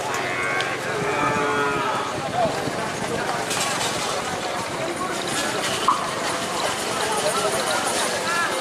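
Pairs of cattle gather at a bull race, with occasional mooing and hoof clatter set within a noisy crowd. An announcer talks almost continuously over the scene.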